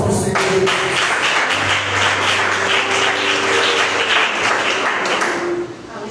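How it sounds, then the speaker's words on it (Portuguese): A church congregation claps in rhythm, a loud sustained patter of many hands in a reverberant hall with a held tone and voices underneath. "4 palmas para o Senhor."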